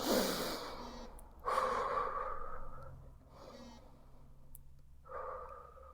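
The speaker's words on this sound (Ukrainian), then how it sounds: "просто починаємо повільно дихати" Slow, deep breaths drawn close up, several long inhales and exhales with short pauses between, no talking.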